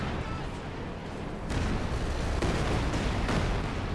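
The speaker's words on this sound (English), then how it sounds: "Bad third shot by the Katyusha." Katyusha rocket artillery fires in Company of Heroes 2, with repeated booming launches from about 1.5 seconds on, several heavy bursts over a dense battlefield rumble.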